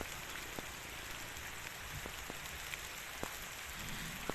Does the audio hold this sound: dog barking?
no